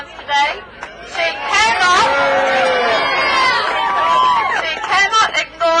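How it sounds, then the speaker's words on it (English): A protest crowd gathered on the Parliament grounds in Wellington, heard as a loud, close chatter of many voices with some shouting, continuing steadily throughout. "she cannot ignore this crowd on Parliament's grounds today"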